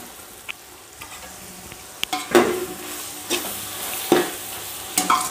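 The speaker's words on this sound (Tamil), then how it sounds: "இப்போ காளான் போட்டுடலாம்ங்க" Mushrooms tumble into a hot pan for mushroom biryani, setting off a few sharp sizzling bursts over about five seconds, with spoon stirring and clinks between them in a quiet kitchen.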